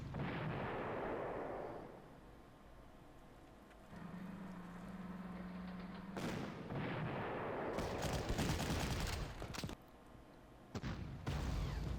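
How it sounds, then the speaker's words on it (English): Artillery barrages in the Panzer Corps wargame, set at Stalingrad, come as deep booming blasts and rumbling impacts, with a sustained low roar and several sharp, sudden bursts later on, fairly quiet overall and without speech. "pound it with artillery"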